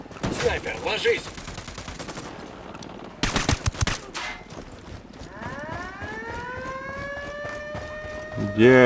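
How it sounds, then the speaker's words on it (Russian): A siren in the video game Ghost Recon Wildlands rises and wails steadily in the latter half, preceded by bursts of rapid gunfire and clattering action noise, all loud and close. "Это сирена."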